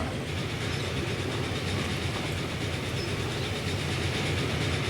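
Train rolling steadily in the Transport Fever 2 simulation game, a continuous loud rumble with rail noise and faint clickety-clack throughout, no voices.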